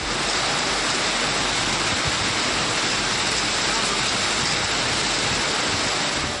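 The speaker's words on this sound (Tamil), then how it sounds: "காற்றுடன் பெய்த திடீர் மழையால் பொதுமக்கள் மகிழ்ச்சியடைந்தனர்" Sudden heavy rain driven by wind in Perambalur, Tamil Nadu, a dense, loud, unbroken hiss close by, steady throughout with no pauses.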